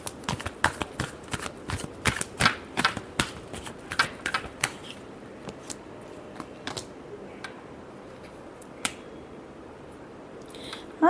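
Tarot cards shuffled by hand, a quick run of crisp riffling clicks and flutters that thins into sparser taps before a final snap, close and fairly quiet.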